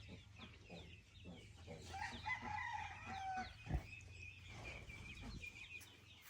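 Chickens on a rural farm crow and cluck repeatedly in the background, with one brief louder call and a low steady rumble underneath, and no talk.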